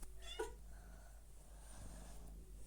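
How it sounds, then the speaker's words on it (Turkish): A cat gives a single short meow early on, fairly close, followed by quiet room noise and a low steady hum. "Yanımda kedi var bir de."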